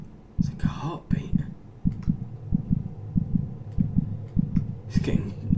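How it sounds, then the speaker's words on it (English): A slow, steady heartbeat thumps through a dark orphanage map in Minecraft, each low double pulse repeating at an even pace, close and moderately loud, with faint breathy noises drifting over it. "It's like a heartbeat."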